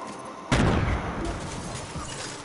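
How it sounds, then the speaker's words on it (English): A Tommy gun firing in a video game, heard as a sudden loud burst that decays into a rumbling, noisy tail. "Let me hold the little Tommy gun."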